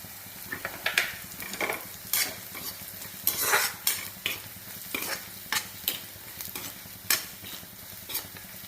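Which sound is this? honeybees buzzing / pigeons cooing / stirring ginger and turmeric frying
stirring ginger and turmeric frying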